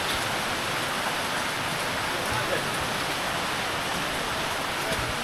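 Heavy rain pouring at Pratapgad fort, a dense, steady hiss of rainfall filling the whole scene without letting up.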